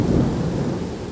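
A southern San Antonio thunderstorm booms with a low, loud roll of thunder over steady heavy rain, a dense, continuous wash of sound with no voices.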